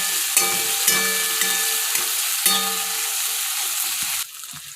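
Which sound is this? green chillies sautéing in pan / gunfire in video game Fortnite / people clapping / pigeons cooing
green chillies sautéing in pan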